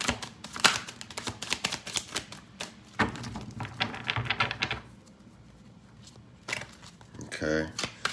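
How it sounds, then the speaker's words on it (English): Tarot cards being shuffled and flopped out onto a surface: a run of crisp, papery clatters and flicks in uneven bursts, fairly close, with a brief pause before a final flurry. "Cards flopping, cards coming out."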